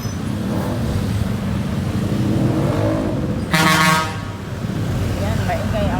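Street traffic on Mango Avenue in Cebu City rumbles steadily nearby, and a car horn sounds once loudly midway. A person speaks faintly under the traffic noise.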